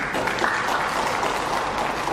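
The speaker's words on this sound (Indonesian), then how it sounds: "Ragu-ragu orang BSP ini tepuk tangan." An audience at a religious lecture claps together in a steady, dense burst of applause that carries on throughout without a break.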